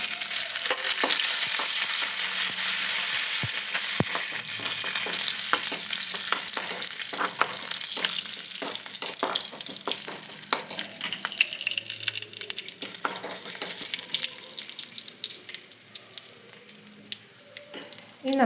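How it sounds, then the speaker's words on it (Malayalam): Garlic and curry leaves frying in a pan for a Kerala tomato curry, a steady close sizzle with scattered stirring clicks and scrapes throughout, fading slightly toward the end. "വെളുത്തുള്ളിയും കറിവേപ്പിലയും ഇട്ട് കൊടുക്കാം."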